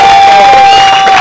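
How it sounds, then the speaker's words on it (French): Loud crowd cheering and applause at an evening stage show greeting two young performers, a dense, steady wash of clapping and whoops with a sustained whistle-like tone running through it. "tonnerre d'applaudissements"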